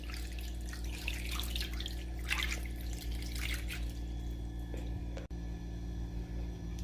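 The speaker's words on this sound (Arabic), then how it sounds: "هلا بنضيف لها المي وبنحطها على النار." Tap water runs steadily into a pot of eggplants being readied for makdous, a continuous close splashing flow with a low hum beneath, and no voices.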